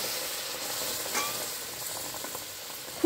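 Hot water poured into fried spice paste for a katla fish rezala, a steady close sizzle and hiss that fades gently, with a sharp clatter at the very end.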